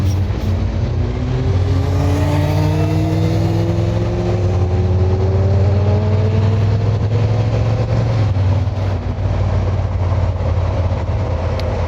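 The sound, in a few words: car with loud aftermarket or removed exhaust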